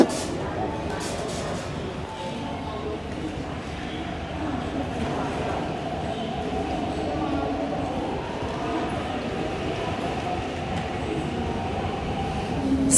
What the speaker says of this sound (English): So weird having every single train entering the side platforms.